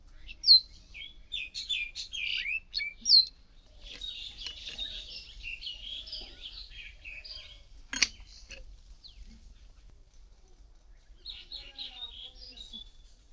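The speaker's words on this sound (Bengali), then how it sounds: "ওয়াও, কতগুলো শালিক পাখি" A flock of myna birds chirping in a village, sharp scattered calls and chatter in bursts, louder at first then sparser, with a faint murmur of voices underneath.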